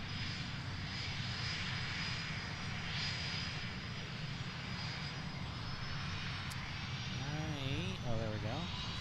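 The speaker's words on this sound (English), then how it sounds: "all these biz jets are revving up. Up, we do have one taxiing out here" Business jets revving their engines and taxiing at Boeing Field, a continuous loud roar with a steady turbine whine heard from nearby across the apron, with brief voices and a warbling tone near the end.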